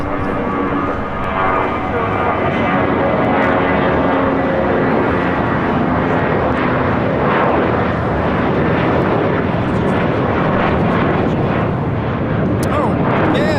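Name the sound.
Spirit Airlines A319 airliner taking off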